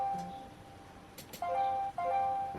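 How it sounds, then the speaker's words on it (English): Phone notification bleeps sound in the background as short tonal chimes, one faint early and then a couple of brighter, longer tones near the end, with no talk. "Sorry about if you heard some bleeps in the background, that's notifications coming in on my phone."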